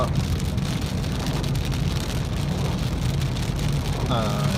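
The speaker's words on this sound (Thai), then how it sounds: "ฝนตกนะครับ" Constant heavy rain hisses steadily from start to finish, with a faint rumble underneath and a brief muffled voice near the end.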